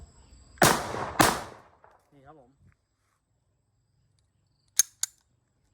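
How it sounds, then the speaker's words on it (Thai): Two sharp, loud reports from an automatic blank pistol fire in quick succession up close, followed by faint mechanical clicks and a pair of small metallic snaps after a pause. "ทดสอบด้วยลูกบุกติสองนัดครับผม"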